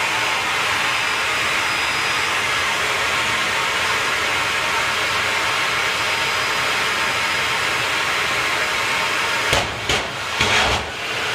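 Drag racing jet car, Fire Force 3, at a strip, its engine spooling up thrust into a loud, steady roaring whine that holds, then throbs in surges near the end.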